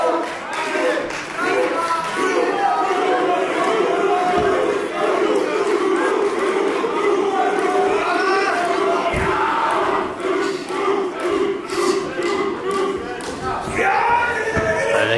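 Dense, loud wrestling arena crowd roaring and cheering without a break, with shouts and scattered claps rising and falling throughout.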